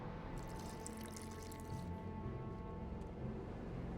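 Faint trickle and drip of water poured into a flask in The Witcher 2: Assassins of Kings, a short splashing patter over a low background hum.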